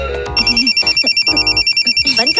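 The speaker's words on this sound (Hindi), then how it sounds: "तेरा फोन बज रहा है" A mobile phone ringtone plays loud and close, a bright electronic melody pulsing in a quick repeating pattern. A voice is heard briefly at the start before the ringing takes over.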